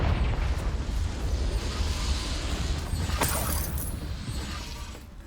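A Confringo fire blast spell explodes in Hogwarts Legacy, a loud rumbling burst that rolls on for several seconds, with a sharp crackling flare partway through before the roar slowly thins out.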